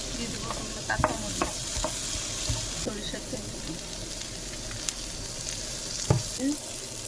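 Onions and garlic roast on a hot, dry griddle, giving a steady moderate crackle and hiss with a few sharp taps and scrapes of a spatula, close by.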